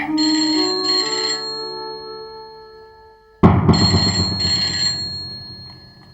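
A telephone ringtone chimes in a repeating melodic pattern, clear and fairly close, restarting after a brief pause.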